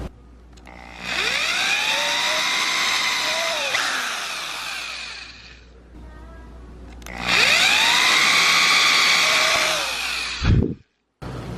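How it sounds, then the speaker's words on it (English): An electric drill whirs up to speed and runs steadily twice, drilling holes in leather clamped to a board, each burst winding down between, close and loud. "I've got this piece of leather clamped to a board, and I'm drilling holes"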